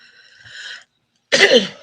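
A single short, harsh cough bursts out after a faint tonal hum and a moment of silence.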